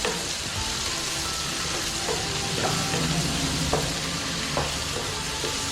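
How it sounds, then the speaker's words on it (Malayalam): Prawns and chopped potato sautéing in a hot pan, a steady loud sizzle with occasional scraping stirs, no talking. "ഇനി ഇതിലോട്ട് കൊഞ്ചിട്ടൊന്ന് വഴറ്റണം."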